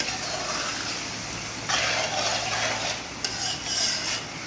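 Stirring ground nutmeg and ground coconut into a creamy chicken malai handi, scraping and rubbing strokes of a spoon against the pot over a gentle sizzle, close with no talk.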